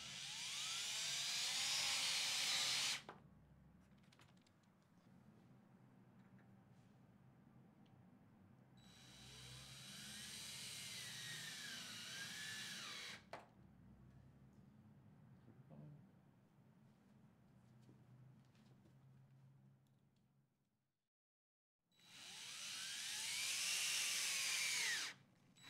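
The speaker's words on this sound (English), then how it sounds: "Using your power drill and a Robertson drill bit, drill in the 5/8 Robertson panhead wood screws" A power drill fitted with a Robertson bit drives 5/8 Robertson panhead wood screws into an aluminum beam support, giving three loud whirring bursts separated by quieter pauses, with no talking.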